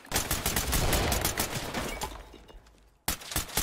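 A rapid burst of gunfire from the tactical shooter Ready or Not, loud and close, tailing off and cut short, followed by another brief burst.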